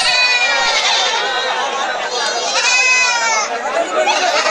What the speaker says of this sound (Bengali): দেখেন কত ছাগল